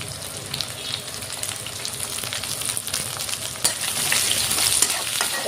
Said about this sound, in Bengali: ভালো করে মশলাটা ভাজা নিব আমি